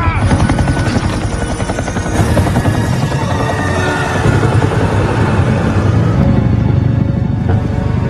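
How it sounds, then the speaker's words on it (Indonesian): A helicopter arrives in a film scene, its loud, dense rotor thumping and engine roar filling the whole stretch continuously, close and steady without pause. "Saat itu juga tim penjemput datang dengan helikopter."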